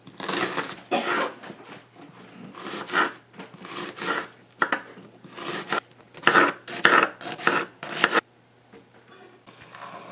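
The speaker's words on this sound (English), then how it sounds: "Molly's going to chop the onions" Onions being chopped for a Guyanese karhee curry, heard as a series of close, scraping knife strokes against a board in uneven bursts, then a quieter stretch near the end.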